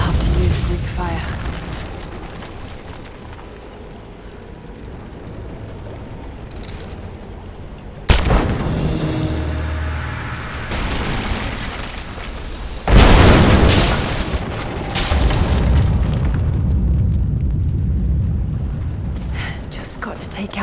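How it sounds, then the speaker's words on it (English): Greek fire explosions bring down the supports of an unstable statue in Rise of the Tomb Raider, two loud booming blasts several seconds apart, each trailing into rumbling debris and crumbling, over low ambient rumble. "Looks like I'll have to use Greek fire."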